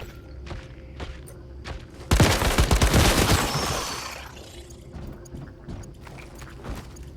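Weapon fire in the video game Once Human, a loud close burst of rapid shots lasting about two seconds and fading out, set between quieter scattered taps and clicks before and after.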